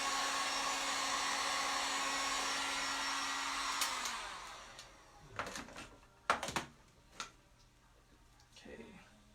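A hair dryer blows steadily on a WoodUbend molding for about four seconds, then winds down and stops, followed by a few scattered clicks and knocks in a quiet room.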